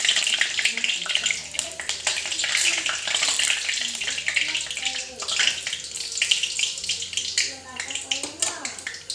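Hot oil with a little water in the pan sizzles and crackles steadily while dhaba-style bhindi masala is cooked. A voice talks over the frying throughout.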